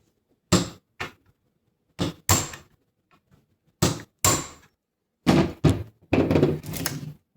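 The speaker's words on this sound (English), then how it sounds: "Gotta knock this pin here out." Hammer blows knocking a pin out of a Mosin-Nagant 91/30 rifle: sharp metallic strikes in small clusters, a pair, then another pair, then a faster burst near the end, loud and close with quiet gaps between.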